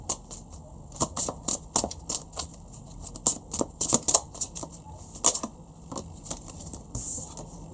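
Tarot cards being shuffled and drawn, with a series of quick papery riffles and slaps coming in uneven bursts, close and fairly soft, with no voices.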